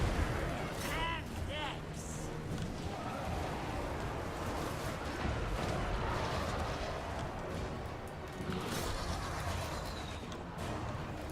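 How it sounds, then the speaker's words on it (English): Explosions during a Total War: Warhammer 2 pirate battle, booming blasts and rumbling artillery-like bursts rolling under a voice, loudest early on and again near the end. "Powerful explosions always sound good to me."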